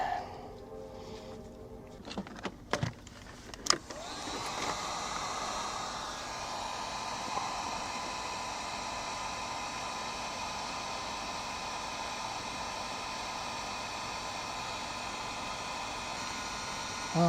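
Heat gun shrinking marine-grade heat shrink tubing over wiring, a steady close blowing hiss and motor whir running continuously after a few handling clicks and taps at the start.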